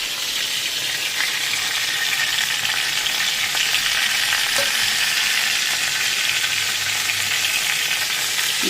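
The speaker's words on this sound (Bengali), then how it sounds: "এই যে জিরে আর তেজপাতা ফোড়ন দেবো" Cumin seeds and bay leaves tempering in hot oil for a mukhi kochu (taro root) curry, a loud, close, continuous crackling sizzle with faint stirring and no voices.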